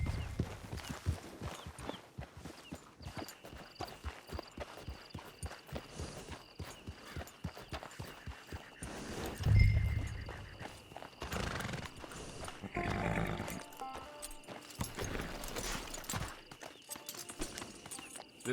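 Horse hooves clip-clop at a steady walk on the ground in the western video game Red Dead Redemption Online, a close, even rhythm with a brief snort or whinny partway through and a soft ambient background.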